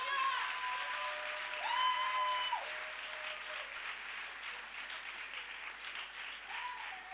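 Congregation applauding during a church service, a steady wash of clapping held at moderate level throughout, with a brief tonal sung or spoken line rising over it.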